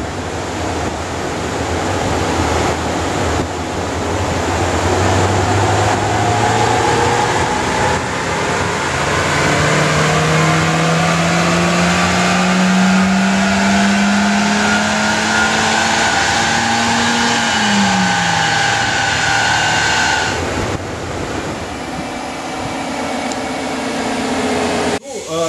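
A car engine fitted with a catalytic converter revs on a dyno in one long, loud pull, its droning roar rising steadily in pitch before cutting off abruptly near the end.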